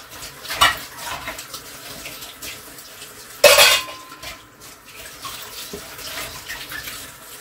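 A cooking pot, lids and dishes clatter in a kitchen sink beside steady running tap water, with a sharp metallic clank near the start and a loud crash midway, then softer handling.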